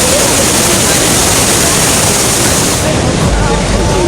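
A waterfall on the Oloolua Nature Trail in Nairobi, Kenya, gives off a loud, constant rushing roar that fills the whole scene evenly from start to finish.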